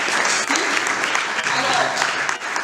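An audience at a Lasallian student parliament in Kinshasa applauds in dense, steady clapping that continues throughout, with some speech mixed in.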